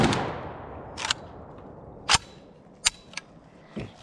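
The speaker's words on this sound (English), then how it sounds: "Last mag out of the M85, again with the WBP mag." A Zastava M85 5.56mm AKSU-style pistol fires outdoors as a string of sharp, loud single shots at irregular intervals, each a crisp crack followed by a brief echo, with no talk.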